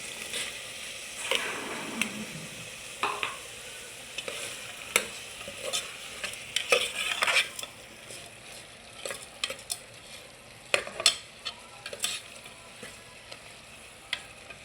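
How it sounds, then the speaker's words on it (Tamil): Vegetables sauté in a pan for sambar, with repeated spatula scrapes and stirring knocks over a low, continuous sizzle, close by and moderately quiet. "இந்த காயும் கொஞ்சம் ஒரு 5 நிமிஷம் வதங்கட்டுங்க."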